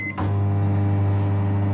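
A microwave oven heating cupcake batter starts with a short beep and click, then settles into a loud, steady low hum that runs on unbroken, close by and without talk.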